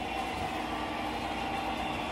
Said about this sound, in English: That's a great train.